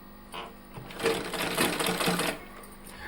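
A sewing machine stitches warm woollen fabric for a baby cap in one short, fast burst of close, rattling needle strokes, with quiet before and after.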